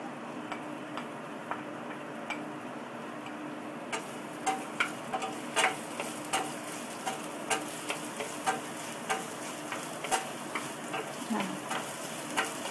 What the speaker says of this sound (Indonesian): aku mau menumis bawang putih yang sudah aku cincang dulu